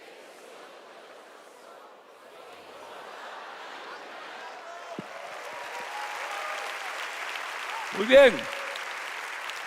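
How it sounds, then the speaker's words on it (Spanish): A church congregation claps during a Spanish-language service, the applause building gradually from faint to fuller, with a voice speaking over it and a brief loud thump near the end. "Dale un fuerte aplauso al Señor."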